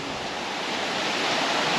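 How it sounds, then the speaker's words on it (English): Steady roar of hurricane-force wind with rushing, hissing noise of driving rain, loud and continuous with no voices. "A lot of wind, a lot of rain, as you can see."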